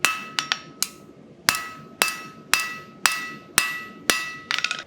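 A blacksmith hammers hot steel while forging, with about a dozen sharp ringing strikes in a steady rhythm, each one loud and close and fading with a metallic ring, plus a quick flurry of lighter taps at the end.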